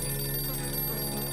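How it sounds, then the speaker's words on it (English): A telephone rings in a bunker during the video game 60 Seconds Reatomized, a steady electronic trill repeating over a humming background. "There's a phone call? We have a phone down here?"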